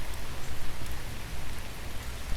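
Steady rain falling on a garden on a quiet, rainy day, a dense even hiss of drops close by with no breaks and no talking.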